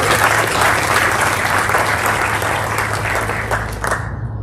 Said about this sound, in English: Let's have a round of applause for our varsity C team.